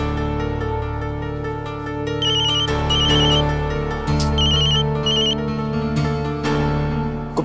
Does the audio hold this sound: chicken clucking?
no